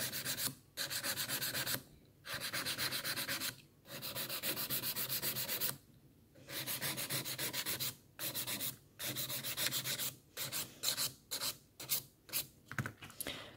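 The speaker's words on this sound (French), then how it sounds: "Donc là je passe très légèrement avec une lime à grain fin sur la surface." A fine-grit file drawn lightly across a surface in repeated close strokes, a steady rasping rub with short pauses between passes that turn quicker and choppier toward the end.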